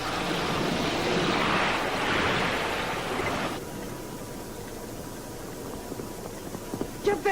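Loud rushing waves and wind surge for several seconds during a storm at sea, then ease into a lower roar of rough sea, with a few creaks and knocks near the end.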